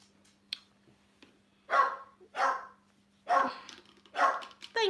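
A dog barks indoors in a few spaced bursts, some sharp single woofs and some longer, fairly loud barks, against a quiet background hum.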